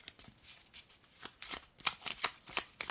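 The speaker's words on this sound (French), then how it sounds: "On va mélanger les cartes." Oracle cards being shuffled by hand, a series of crisp riffling bursts that grow louder toward the end, close and alone with no voices.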